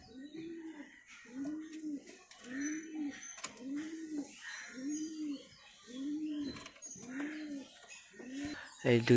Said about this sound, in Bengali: সব পায়রা খুব হেঁটে হেঁটে এখানে আছে